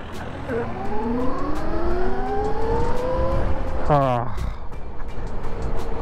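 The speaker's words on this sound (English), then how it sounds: "you get a nice little whirl from the chain drive on here" Chain drive of an NIU RQi electric motorbike prototype whirring in rising and falling tonal sweeps as it accelerates, with a sharp pitched burst near the end over steady background noise.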